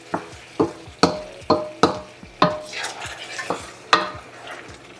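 A ladle stirs beef caldereta in a metal pot, striking the rim about a dozen times in sharp, ringing clanks spaced under a second apart, close and clear over a faint simmer, with no voices.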